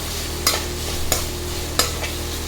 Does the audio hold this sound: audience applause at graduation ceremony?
no